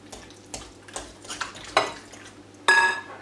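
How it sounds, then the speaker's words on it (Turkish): A spoon stirs strained yogurt and mashed cheese in a bowl, with a series of close scraping strokes and clinks against the bowl, ending in a louder scrape. "Süzme yoğurduma peynirimi ilave ediyorum. Ve güzelce karıştırıyorum."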